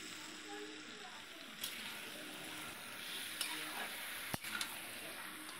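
Small unmarinated chicken pieces go into a frying pan, giving a soft steady sizzle with a few faint clinks and scrapes; quiet and fairly distant, with no talking.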